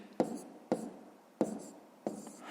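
A pen taps and scratches numbers onto paper while solving a fifth-grade subtraction exercise, with four short, distinct strokes spaced apart, close and quiet, and a voice speaking alongside.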